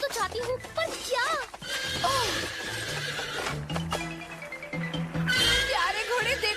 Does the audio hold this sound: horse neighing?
yes